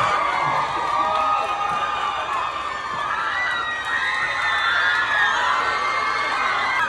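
Concert crowd roaring and cheering at a hometown show, a loud sustained wall of shouts, whoops and screams with no break.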